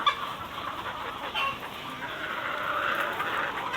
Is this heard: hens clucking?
yes